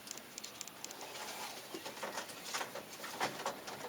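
Racing pigeons in a loft making soft, low cooing and rustling sounds, a steady faint murmur of bird activity with light pattering throughout.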